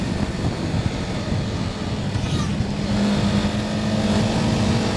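A BMW G310R motorcycle engine revs and pulls steadily under acceleration, a loud, continuous drone that swells slightly toward the end, with no voices.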